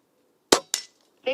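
An AR-15 rifle fitted with a Buck Rail P-Rod tactical conversion kit fires two sharp, close shots about a quarter second apart, followed by a brief softer sound.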